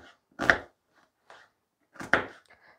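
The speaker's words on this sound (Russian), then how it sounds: "Беру одну небольшую луковицу и нарезаю на мелкий кубик." A knife chops a small onion into fine dice on a cutting board in a home kitchen, for pirozhki made to a grandmother's recipe: two sharp, close knocks about a second and a half apart, with faint taps between, and no talking.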